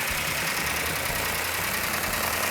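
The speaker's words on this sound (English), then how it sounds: "That's an initial startup right there, no smoke yet." A Plymouth 'Cuda engine with a big new cam runs at its first startup, a loud, constant close-up mechanical roar with rough, lumpy undertones.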